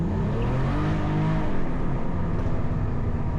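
A Cadillac CT4-V Blackwing accelerating hard at full throttle toward 6,000 RPM, its engine roar loud and close and building steadily with a rising, rumbling exhaust drone throughout.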